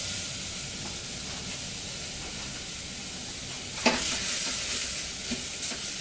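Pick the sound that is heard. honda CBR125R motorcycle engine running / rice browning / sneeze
rice browning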